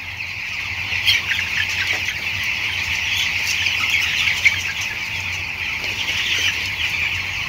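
Broiler chicks in a poultry brooding house give a steady, dense chorus of high cheeping and clucking, a constant close flock sound with occasional wing flaps and no talking.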